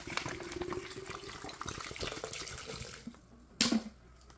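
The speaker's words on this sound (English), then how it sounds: "I'm going to add water." Water pours into a cooking pot for a bean stew, a soft, continuous splashing stream for about three seconds that stops, followed by a quiet pause and a short clink.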